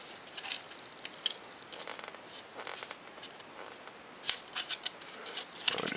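Scissors cut out paper plans for a micro bat-wing RC jet, producing repeated crisp snips and papery rustles, close and fairly quiet, with no talking.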